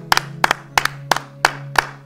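Church congregation clapping in a steady, rhythmic beat of roughly double claps to acclaim the king, loud and close over a sustained low hum.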